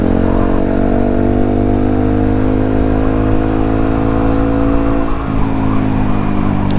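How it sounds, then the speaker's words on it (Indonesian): A Yamaha WR155 supermoto engine idles loudly and close, rising slightly in pitch with a light rev before settling back to a steady rumble. "Kita geber tipis aja kali ya."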